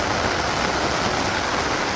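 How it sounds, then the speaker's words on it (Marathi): Heavy rain falls at a farm house near Mangaon, a thick, unbroken rushing hiss that holds loud and even throughout, close by and with no talking. "जाम पाऊस आहे."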